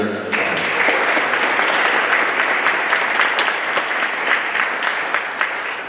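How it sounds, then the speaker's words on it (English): An audience at a college event breaks into applause, clapping swelling in quickly and holding as a dense, steady roar of many hands, close and loud, with no talking over it. "Let's give Steve another round of applause."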